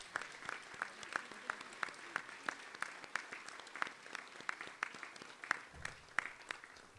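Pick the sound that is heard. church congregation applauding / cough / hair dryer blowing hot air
church congregation applauding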